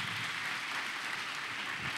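A church congregation applauding the Lord, a dense, even wash of many hands clapping that holds steady throughout, fairly faint and distant.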